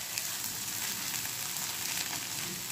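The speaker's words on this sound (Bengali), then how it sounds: "ভেজে নিতে হবে সুন্দর করে।" Bread and egg fry in a pan with a faint, steady crackling sizzle that stays even throughout.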